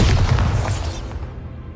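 Bombarda blasting spell exploding in Hogwarts Legacy, a loud booming burst with a heavy low rumble that rolls off and fades within about a second.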